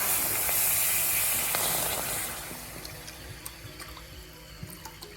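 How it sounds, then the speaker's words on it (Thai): Clean water is poured into a hot pan on a stove at the start of making a spicy Thai pork spine soup. A loud rushing pour and hiss fades after about two seconds into quieter bubbling and small ticks. "หลังจากที่กระทะหรือเตาร้อนแล้วก็จะทีน้ำสะอาดลงไป"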